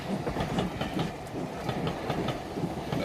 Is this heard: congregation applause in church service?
no